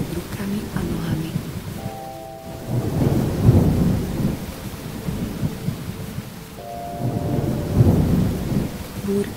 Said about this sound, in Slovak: Postupne sa tento jemný vánok mení na búrku.